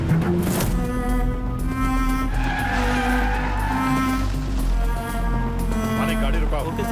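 A jeep driving along a forest road, then braking to a stop, with tires skidding under a steady engine drone; the vehicle noise runs loud and continuous beneath a film soundtrack, and people speak over it.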